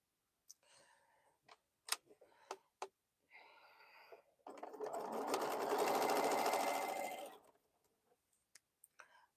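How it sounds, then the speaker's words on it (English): A sewing machine runs in one steady burst of stitching for about three seconds while quilt pieces are joined without pins, with scattered clicks and handling noises before and after. "When I have long pieces, I start sewing about an inch or two down"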